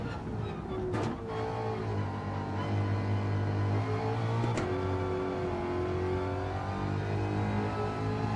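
A car engine in a sim racing video game, climbing a hill on track, drones steadily with layered harmonic tones, shifting pitch as the throttle is pumped and eased, with a brief sharp blip near the middle.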